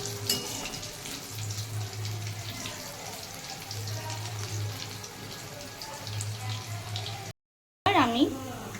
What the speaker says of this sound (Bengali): ঠিক এইভাবে লাল লাল করে ভেজে নেবেন।